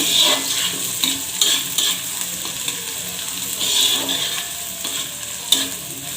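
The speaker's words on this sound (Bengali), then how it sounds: "দিয়ে আমি এটাকে একটু ভালো করে নাড়ব।" Eggplant mash (bharta) being stirred in a frying pan, with a spatula scraping steadily over a soft sizzle and a few louder knocks against the pan, close and without talk.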